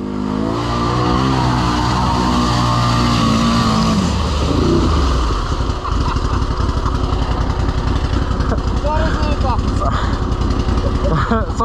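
Quad bike (ATV) engine revving hard off-road, a loud continuous motor drone that drops in pitch midway then keeps churning with rough bursts, with people talking throughout.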